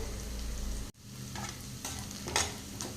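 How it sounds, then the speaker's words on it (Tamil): Onions sautéing in a pan with spices for an eggplant kara chukka: a low steady sizzle, an abrupt brief cut, then several scraping stirs of a spoon against the pan. "இப்போ இது எல்லாமே நல்லா கலந்து விட்டுறலாங்க வெங்காயம் வதங்கட்டும்"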